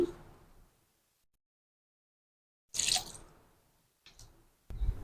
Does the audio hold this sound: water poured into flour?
yes